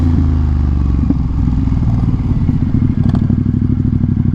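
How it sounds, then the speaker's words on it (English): A Harley-Davidson Road King motorcycle idling close by, with a loud, deep, steady low-pitched engine rumble and a constant lumpy throb throughout, no voices. "We got a Harley here, guys."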